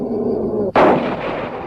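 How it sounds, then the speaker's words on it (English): A single sharp gunshot cracks loudly in a radio drama hunting scene, following a low droning background. A rumbling tail fades afterward. "I hit him. I hit him twice. I heard the bullets go home."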